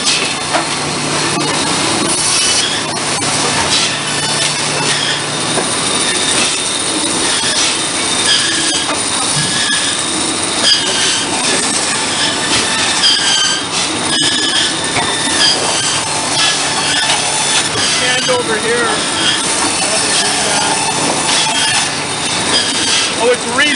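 Sawmill saw cutting a western red cedar log, about 200 years old, in Mission, BC: loud, continuous grinding and screeching machinery throughout, with voices faintly underneath.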